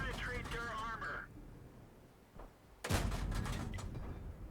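A World of Tanks tank gun firing its clip: a sharp, loud cannon blast rings out near the end, preceded by a fainter distant shot, after a voice speaks at the start.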